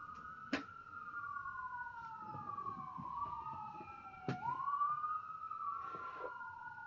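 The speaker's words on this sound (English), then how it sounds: "I am sure you can hear it. The sirens are going off." Several sirens wail outside at once, their rising and falling tones overlapping in long sweeping glides, heard from a distance through a quiet indoor space with a couple of sharp knocks nearby.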